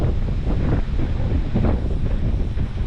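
Steady gusting wind roars across the microphone, a broad rushing noise with slight swells in strength and no voices.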